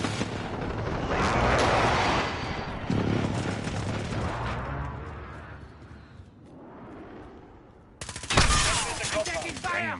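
Gunfire in the video game Call of Duty: Modern Warfare, rumbling bursts and blasts that swell and fade, ending in a sudden loud volley.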